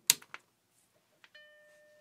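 Vintage Macintosh Classic computer powering on: a few clicks from the switch, then the single sustained startup chime ringing out close and clear in a quiet room.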